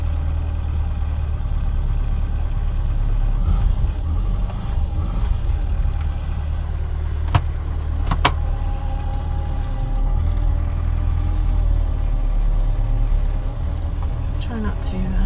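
A 1974 Austin Allegro's engine idles steadily and close with the choke pushed back in, a constant low rumble that runs throughout, with a couple of sharp clicks partway through.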